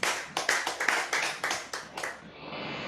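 A small audience claps in a short burst of distinct, fairly soft hand claps at a steady pace, thinning out and stopping after about two seconds.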